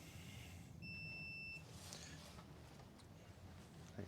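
A multimeter set to continuity mode gives a single short, high electronic beep lasting under a second, near and fairly clear over a quiet room hum while a dead Karcher K2 pressure washer is tested.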